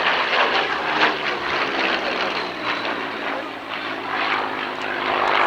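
A propeller aeroplane drones past at the 1991 Alconbury Airshow, a steady, rough engine roar that swells slightly and holds loud and close for several seconds with no voices over it.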